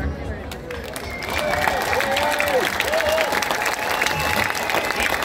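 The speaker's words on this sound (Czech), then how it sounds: "dovolte, abych vám já zatleskám" Dense, steady applause from a concert crowd at the end of a band show, filling the whole stretch with a loud, even roar of clapping and faint voices inside it.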